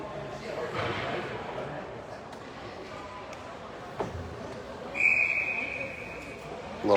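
A referee's whistle at an ice hockey game, one sustained shrill blast rising out of steady arena crowd noise and skating clatter, heard at moderate distance.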